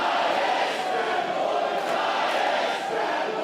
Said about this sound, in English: Well, Janela's got a cheering section here